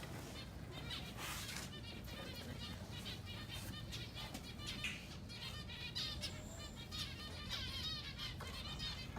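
A flock of birds chirps and chatters busily, with occasional wing flutters, over a steady background hum; a voice talks faintly at times.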